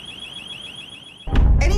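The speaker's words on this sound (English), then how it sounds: "Anytime you hear an alarm," An alarm going off during a break-in, a steady warbling electronic tone sounding alone and fairly loud, cut off near the end by a sudden burst of louder rumbling noise.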